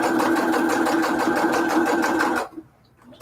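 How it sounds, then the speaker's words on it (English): A sewing machine runs a steady straight stitch around a junk journal, its fast even needle clatter loud and close for over two seconds before stopping abruptly into near silence. "I'm going to go just around with the straight stitch again."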